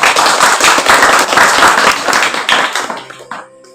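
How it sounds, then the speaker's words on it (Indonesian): Audience at a village food-writing workshop claps together, a close, loud burst of hand clapping that holds steady for about three seconds and then trails off into a few scattered claps. "Tepuk tangan."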